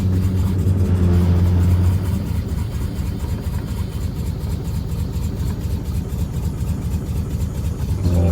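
A 1968 Dodge Charger with a swapped Hellcat engine runs in drive, its deep engine idling roughly and steadily up close, with a brief louder surge at the start and again at the end.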